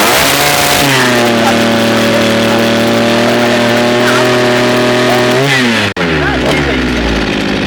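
A small 52cc two-stroke brush cutter engine runs loud and close, holding a high steady whine, then revs up, briefly cuts out, and picks up again.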